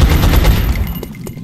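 Machine gun fire from the video game XCOM: Long War, a loud rapid burst of shots that gradually fades over about a second and a half, with no voices.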